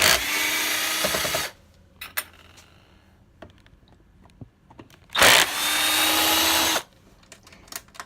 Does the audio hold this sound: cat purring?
no